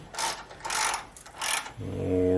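Ratchet clicks in three quick bursts as a 10mm bolt is tightened on an upper bracket of a 2012 Honda Civic during A/C compressor work, followed by a low steady hum.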